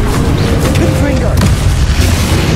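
A Confringo spell explodes in the Hogwarts Legacy video game with a loud, dense boom and a rumbling burst that fills the short moment, mixed with game effects.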